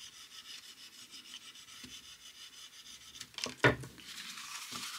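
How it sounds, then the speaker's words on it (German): Paper on a handmade gift box is pressed and smoothed firmly from the inside while gluing, making faint, close rubbing strokes followed by a sharper brief crinkle near the end. "Auch hier streiche ich nochmal von innen fest."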